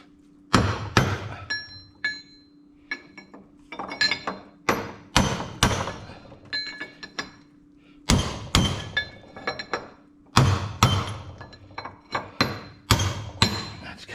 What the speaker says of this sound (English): I'm just going to tap that out with a cold chisel.